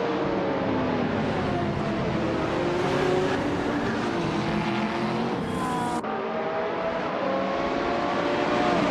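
Race cars roaring off the start line in a racing video game, led by a 2007 Ferrari F430 GTC, a loud continuous engine drone with rising gear-change whines and a brief shift break, close and steady throughout.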